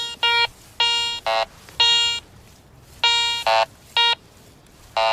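Garrett Ace 400i metal detector sounding its bell tone over a target in iron mode, a series of bright electronic ringing beeps, loud and close, in short irregular bursts over faint background hiss.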